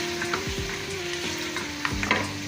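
Potato slices sizzle and fry in a pan while being stirred, a continuous close crackle with scraping strokes of the spoon against the metal and no voices.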